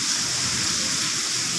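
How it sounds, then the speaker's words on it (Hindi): Heavy rain in a hilly area near Islamabad, heard as a steady broadband hiss of downpour without pause, even and moderately loud. "कदे जोर की बारिश।"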